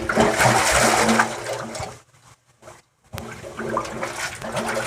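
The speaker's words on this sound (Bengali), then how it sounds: "জল পড়ছে এই দেখুন জল আসছে এখানে" Water pours and gushes from a motor-fed pipe at a home biogas plant, a loud rushing flow that cuts out briefly to near silence in the middle, then resumes strongly.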